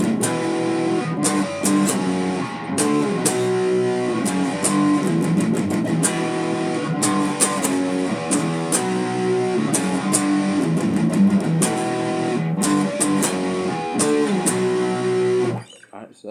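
Electric guitar playing the chorus riff of a song at a slightly slowed pace, loud and continuous with chugging rhythmic strums, stopping abruptly near the end.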